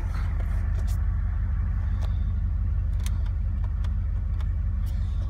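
2006 Chevrolet Monte Carlo SS with 159,340 miles, its engine idling steadily with a deep, constant rumble, recorded close with light clicks and faint background noise.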